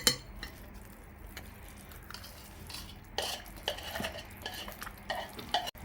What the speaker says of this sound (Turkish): Babası da bir taraftan karıştırırken bir taraftan zeytinyağını da ben şöyle ilave edeyim.